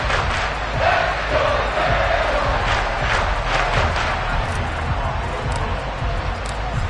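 A packed football stadium crowd roars and cheers at an NFL playoff game against the Bengals, a dense, sustained wall of voices with swelling shouts throughout.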